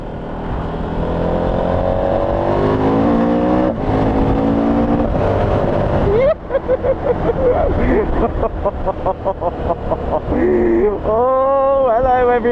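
A 2019 KTM 1290 Super Adventure touring motorcycle rides on the road, its engine revving and shifting through gears in rising and falling sweeps, loud and close, with wind noise and someone speaking over it.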